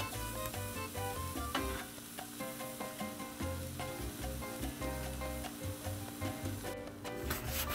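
Canadian bacon frying on a 22-inch Blackstone griddle, a steady crackling sizzle with some spatula scrapes and a few brief background tones, moderately quiet and without talk.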